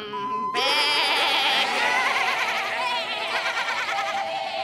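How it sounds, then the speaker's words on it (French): Several cartoon goats bleat loudly and without pause, their wavering cries overlapping in a thick chorus for a few seconds. "La première qui arrête de bêler."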